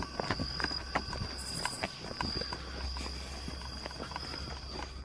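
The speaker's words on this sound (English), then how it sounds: "I hear somebody walking, and it's not our freaking footsteps" Footsteps of someone walking outdoors at night: a series of irregular, fairly close crunching steps over a steady background hum and a high insect-like whine.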